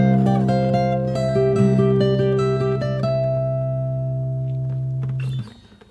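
Fingerstyle guitar plays a section of the Mandalorian theme as a steady run of plucked notes over a sustained low bass note, then cuts off abruptly near the end.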